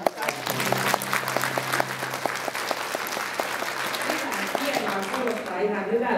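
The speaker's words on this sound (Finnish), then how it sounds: "kokeillaanpa minkälainen taputusherkkyys teillä on" An audience at a Finnish group's tenth-anniversary show claps in a dense burst of applause that starts abruptly and tapers off over several seconds, with a low hum and some voices underneath.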